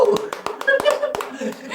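Sharp hand claps ring out on an Indonesian wedding-business podcast, about eight crisp claps in a quick, slightly uneven rhythm, close and clear, with talking and laughter underneath.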